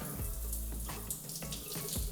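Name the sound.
rain shower head spraying water at full blast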